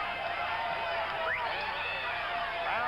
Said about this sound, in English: People are up on their feet yelling for young Sanford.